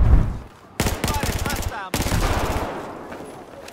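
A FAMAS rifle fires in the video game Battlefield 4 as two loud, rapid automatic bursts of close gunfire, separated by a brief pause, with a low rumble underneath.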